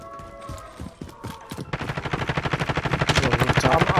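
Battle royale game gunfire: a few scattered single shots, then a fast, loud, sustained machine-gun burst of evenly spaced rapid rounds that grows stronger toward the end.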